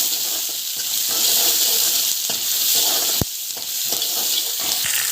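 Onions with salt and asafoetida sautéing in oil in a pan, a steady loud sizzle throughout with a few sharp clicks of a spoon against the pan.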